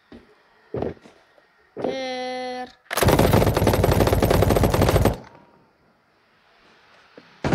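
Automatic gunfire in the Battle Prime mobile shooter bursts loud and dense for about two seconds after a short mechanical rattle, with quieter game sounds before and after.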